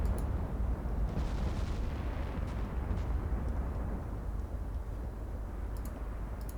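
Heavy naval gunfire from 20-inch and 18-inch battleship guns aimed at heavy and light cruisers in a 1964 Norwegian Campaign naval warfare game: a dense, continuous roll of loud, deep booms and rumbling blasts with no talk.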